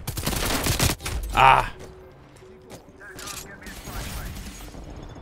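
An RPD machine gun fires in the Call of Duty Cold War shooter game: a rapid, loud burst lasting about a second, then a sharp blast. Quieter clicks and game noise follow, with a brief exclamation from a voice.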